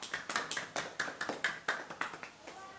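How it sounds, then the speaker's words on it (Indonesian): Students in a primary school maths class applaud a classmate, a quick run of overlapping claps and taps in a room, moderately loud and steady for a few seconds. "Beri tepuk tangan buat Mbak Rara."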